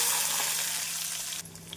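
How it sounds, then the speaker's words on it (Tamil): Small shallots frying in hot oil with popped mustard seeds and cumin give a steady close sizzle, easing slightly before a brief clatter near the end. "ஜீரகம் பொரியவும் நறுக்கிய சின்ன வெங்காயத்தை சேர்த்து விடலாம்."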